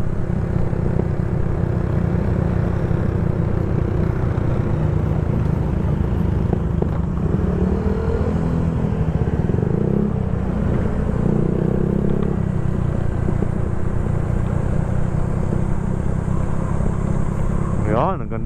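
A Yamaha Mio Sporty scooter engine runs steadily while riding downhill from Sto. Domingo Highlands in Batangas City, a continuous close drone with clattering wind and road noise, and someone talks over it at times.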